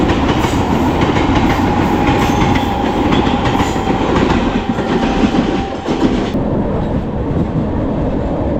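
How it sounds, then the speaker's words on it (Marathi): A Mumbai local train runs past close by, a loud continuous rumble with rattling wheels that holds steady for the whole stretch and eases slightly near the end. "या बाजूला मुंबईची लाईफलाईन"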